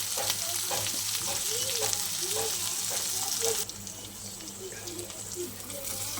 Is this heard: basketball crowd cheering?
no